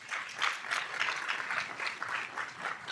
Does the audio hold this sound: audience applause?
yes